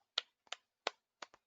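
Five quick, sharp claps ring out in an uneven, sparse rhythm, faint and close, with silence between them and no talking.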